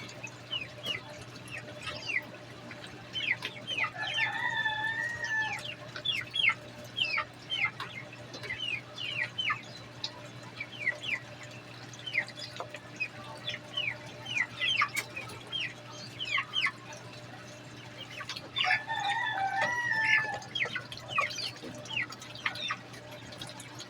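Chickens cluck and chatter continuously, several birds at a moderate distance, over a steady low hum with no talking, with ducks nearby.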